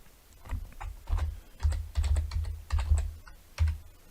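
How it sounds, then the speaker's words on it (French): Typing on a computer keyboard in Word: close, distinct bursts of keystrokes in quick uneven runs with short pauses between words, with no voice. "Et là on peut commencer à taper les noms"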